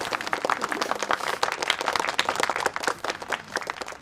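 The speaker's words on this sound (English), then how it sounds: "Right away, they cut to people clapping, a room full of people practically beaming at the announcement for Sister Diaz" Applause from a room full of people in a cartoon, with dense, steady clapping that carries on throughout with no talk over it.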